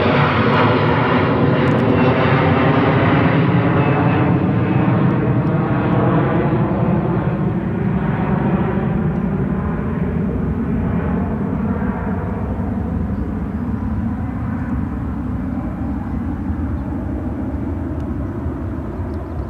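An airplane departing runway 34 right at Seattle-Tacoma airport roars loudly and continuously, the engine tones slowly sliding in pitch as it passes and recedes, with no voices.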